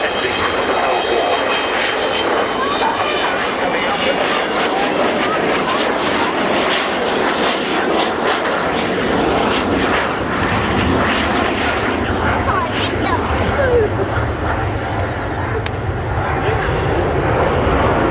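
Avro Vulcan jet bomber engines roar at the Cosford air show, a loud broad steady rumble that holds for about eighteen seconds, with a voice talking in the background.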